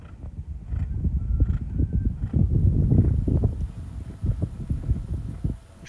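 Hooves of a racehorse thud in quick uneven clusters on the ground, close and fairly loud, with a faint breath or snort mixed in and no talking.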